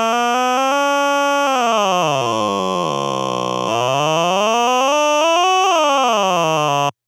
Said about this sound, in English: As you can hear, it plays the note aloud as you adjust, so that you can hear what you're doing.